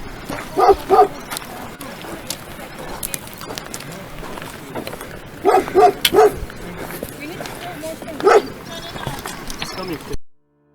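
Dogs at a village guarded by sheepdogs barking in short clustered bursts of two or three barks, repeated several times over a rough outdoor background, with voices talking around them.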